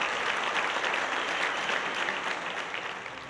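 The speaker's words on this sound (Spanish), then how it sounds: "agradeciendo a los michoacanos su visita con un caluroso aplauso" Theatre audience in Cancún gives warm, sustained applause to the Michoacán Symphony Orchestra after a concert, a thick continuous wash of clapping that slowly eases off toward the end.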